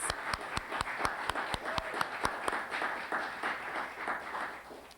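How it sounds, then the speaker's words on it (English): Audience applause at the PEGASYS Awards for award-winning local access programs: steady, moderately distant clapping from a crowd, with sharp individual claps standing out, holding evenly across the whole stretch. "I'd like you to give a round of applause to"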